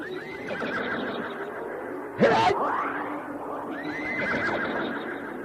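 A black phantom horse gives a loud, sharp whinny lasting about half a second in the middle of a dramatic scene, with faint echoing tones and background music around it.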